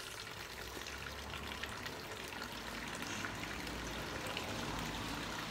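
Liquid fertilizer being poured onto potted houseplants, a steady, close trickle and splash of liquid that runs continuously for several seconds with no talking.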